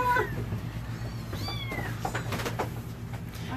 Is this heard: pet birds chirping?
no